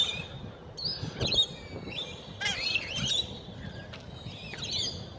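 Wild birds call and chirp outdoors, a magpie among them, with bright, scattered calls and short warbling phrases over steady low background rumble, moderately close and without talk.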